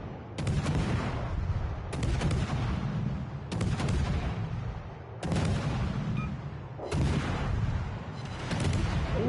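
Battleship main guns firing in the naval game World of Warships: Legends, featuring the Iowa and Yamato, loud booming salvos recurring roughly every one to two seconds, each blast rolling into a sustained rumble, with no talk.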